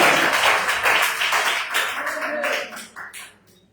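A church congregation clapping during an evening service, a burst of many hands in brisk rhythm that thins out and breaks into a few scattered claps toward the end.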